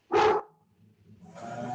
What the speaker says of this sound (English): oh, I have a dog barking